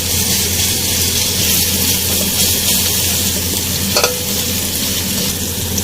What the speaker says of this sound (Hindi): मैं लहसुन अदरक का पेस्ट डाल के इसको 2 मिनट तक भूनूंगी